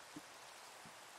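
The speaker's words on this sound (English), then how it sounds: "Ah, isn't the rain beautiful," Rain falling in the video game Minecraft, a faint, steady hiss of downpour with a couple of soft, brief patters, no voices.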